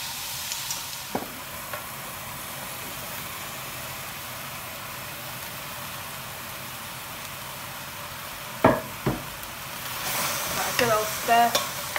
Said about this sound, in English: now I'm going to put the mushrooms in